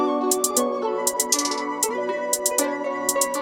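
Hi-hat pattern in a hard trap guitar beat, crisp bursts in a bouncy rhythm with spaces between hits, trailing delay and reverb repeats, over sustained guitar-like melodic tones, loud and close.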